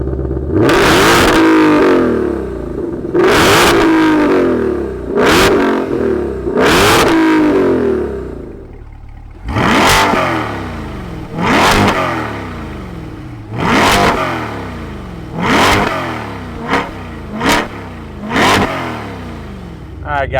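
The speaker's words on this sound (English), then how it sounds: "let's fire up these two performance cars and hear what they sound like" A 2020 Ford Shelby GT500 and a C8 Corvette fire up and rev repeatedly, each loud blip rising and falling in sharp bursts, with the throttle stabs growing quicker and shorter toward the end and no talk over them.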